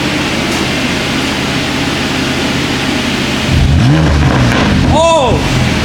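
A car fitted with a full Active Autowerke exhaust idles with a low steady rumble, then rises into a couple of short revs with rising and falling pitch; people talk and exclaim over it.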